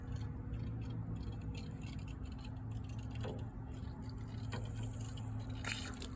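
Venturi bubbler pushing air into water for a hydroponics setup, a steady close gurgling and bubbling with a constant low pump hum underneath and a few brief splashy bursts.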